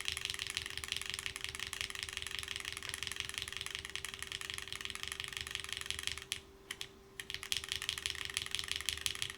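Fast typing on a plateless Keycult Zero keyboard with a polycarbonate top, cork bottom and GMK Gladney keycaps, soft rapid clacks running steadily, breaking off briefly before resuming.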